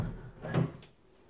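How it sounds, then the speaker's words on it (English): A bathroom door swings open in a house interior, a single soft creak and knock of the door moving, fairly quiet and close, with no talk over it. "in front of this door, right there, is the door of the bathroom. Let's go inside."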